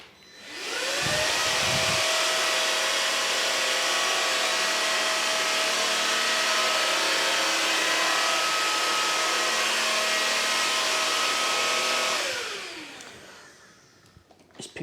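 A TICWELL WHALE SW301 cordless vacuum and washer on normal mode whirs up loud and steady with a high motor whine, holding an even drone for about ten seconds before spinning down, with no talking.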